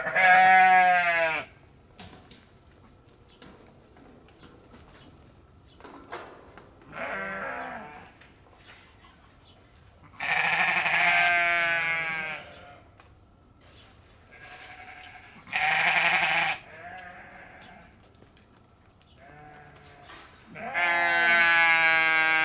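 Sheep bleat loudly at feeding time on a farm, five long, wavering calls spaced several seconds apart, close by, with quiet gaps between them.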